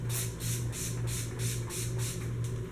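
Makeup setting spray mists out in a quick series of short, even hisses, about three per second. The bursts are soft and close over a low, steady background hum.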